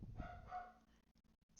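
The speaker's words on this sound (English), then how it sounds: "my dog is barking" A pet dog barks a few times in a room nearby, short moderately loud yaps early on that fade into quieter background noise.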